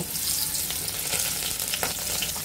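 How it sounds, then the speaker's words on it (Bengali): Small puti fish frying in hot oil, a dense, continuous sizzle and crackle close up, with faint stirring underneath and no voices. "এখন আমরা তেলে ভেজে নিব।"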